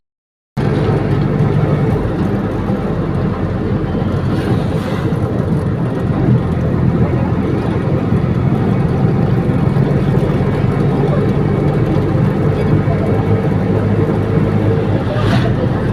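An auto rickshaw rides through Kolhapur traffic toward Shahu Palace, its engine drone and road rumble steady and close for the whole stretch, with no one speaking.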